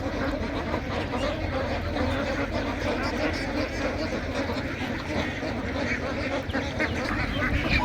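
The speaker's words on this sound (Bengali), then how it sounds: "দেখেন রাজহাঁসের কাছে চলে এসেছে ছোট ছোট বাচ্চাও কয়েকটা আছে এখানে" Geese and goslings on a duck farm honk and quack steadily in a dense, noisy chorus, with a constant background hubbub and voices mixed in.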